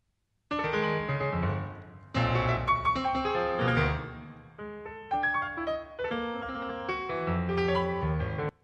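An instrumental piece by Pierre Boulez built from mathematical permutations: clusters of sustained pitched tones arrive in abrupt, angular phrases separated by brief breaks, with no talking.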